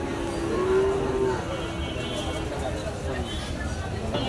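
A single low moo from a Sahiwal cow at a village cattle market. It stands briefly above a steady background of crowd chatter and market noise.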